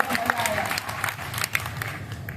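A crowd applauds at a large kavi sammelan poetry gathering in Sojat City. The dense clapping runs continuously but fairly quietly, with a few louder individual claps standing out and faint voices mixed in.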